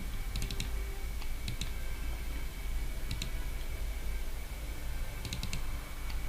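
Mouse and keyboard clicks at a computer, including a double-click on a desktop file: quiet, sharp ticks in small clusters over a steady low hum, no voices.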